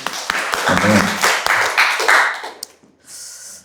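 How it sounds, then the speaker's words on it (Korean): A church congregation at a Korean Sunday worship service gives applause to God, a loud burst of clapping that trails off, followed by a brief tonal sound at the end. "하나님께 다시 한번 감사와 영광의 박수 드릴까요?"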